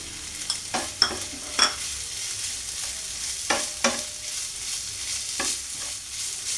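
Chicken keema with okra sautéing in a pan for a Bengali-style bhindi keema, a soft steady sizzle broken by several sharp stirring scrapes and clinks, close and moderately quiet with no voices.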